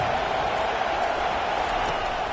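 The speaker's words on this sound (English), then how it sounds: "Listen to the crowd energy here in the early going." Stadium crowd at a football game, early in the game, roaring as one steady, dense wall of noise, loud and unbroken, with no single voice standing out.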